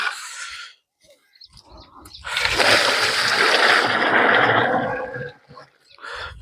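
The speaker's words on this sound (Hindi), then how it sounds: "अब इसमें हम पानी डालेंगे, जितनी मात्रा में पत्तियां हैं उतने ऊंचाई तक हम पानी भर देंगे इसमें।" Water is poured into a container full of tree leaves to mix an organic insecticide, making a steady rushing splash for about three seconds, with faint background sounds before and after.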